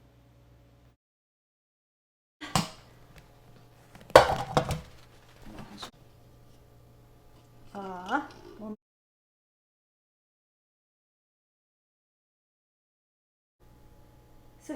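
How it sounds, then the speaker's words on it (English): A pot of Persian basmati rice with a crunchy tahdig bottom is flipped onto a tray, giving a few sharp metallic clanks and knocks with gaps of quiet between them. "Now to get the tatik layer, I'm gonna flip the pot"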